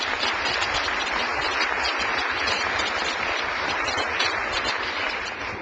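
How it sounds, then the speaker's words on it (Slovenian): An audience applauding speaker Sara after a talk on employee rewards and motivation, dense continuous clapping from a crowd that holds steady and starts to fade at the very end. "Aplavz za Saro"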